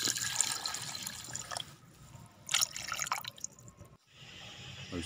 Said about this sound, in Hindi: उसके बाद इसमें पानी ऐड कर दें।